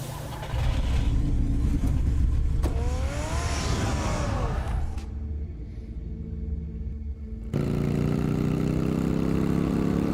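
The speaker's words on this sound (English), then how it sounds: "Get the car ready, Alfred." A car engine in a Batman video game idles and revs loudly, with a rising whine midway, a brief quieter lull, then a renewed steady rumble.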